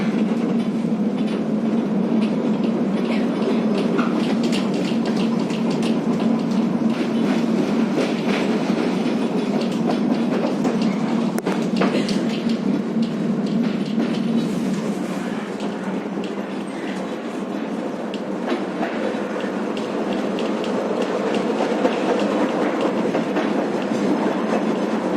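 An old, worn-out tram in Kyiv rumbles steadily along its rails, a continuous near rolling drone with rhythmic clickety-clack from the wheels, running unbroken and without voices.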